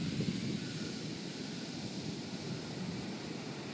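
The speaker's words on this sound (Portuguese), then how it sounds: "Olha o barulho da onda." Ocean waves break on an empty sunny beach in a steady, loud wash of surf and rushing foam, continuous and close, with some wind noise on the microphone and no talk.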